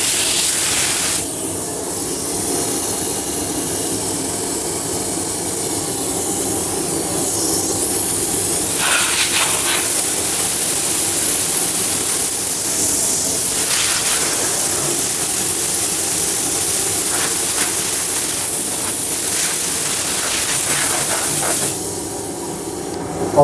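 Spray gun driven by an oil-free air compressor, laying lacquer on a subwoofer box: a loud, continuous hiss of spray with short breaks where the trigger eases off, and no talking.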